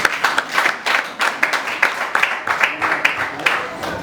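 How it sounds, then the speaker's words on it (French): Church congregation clapping in a steady, rhythmic beat during worship, fairly close and loud, with voices faintly present underneath. "Applaudissez le Seigneur."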